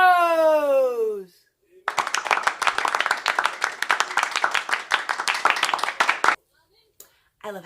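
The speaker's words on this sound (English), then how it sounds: "An applause track." Canned studio applause track, a dense burst of many hands clapping that swells in abruptly after a voice and runs steadily for several seconds before cutting off.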